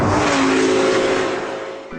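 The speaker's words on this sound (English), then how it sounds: "sometimes it changes gear very violently" A Lamborghini Gallardo Superleggera's engine roars loud and close as it revs hard, with a sharp drop in pitch near the end as it shifts gear abruptly.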